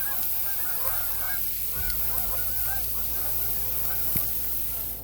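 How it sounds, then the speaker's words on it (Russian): Geese honk in a steady string of calls as they fly overhead during an evening cookout outdoors, the honks moderately distant over a low background hum, with a couple of brief knocks. "О, гуси летят, летят!"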